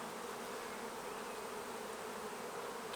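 Dense, steady buzzing of many honey bees on a hive frame in a healthy colony during queen rearing work, a continuous close drone with no talking.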